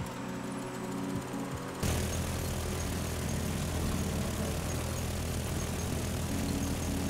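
Engine of a Reaper-armed vehicle in the Crossout video game, a steady droning roar that jumps louder partway through and then holds a dense, even hum with no talking.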